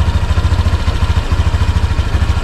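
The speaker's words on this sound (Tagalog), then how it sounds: "Yan ang tunog ng ating makina." Honda Click 125 V4 scooter, a 2024 model, idling with a steady, smooth low throb that pulses evenly and stays close and fairly loud, with no talking over it.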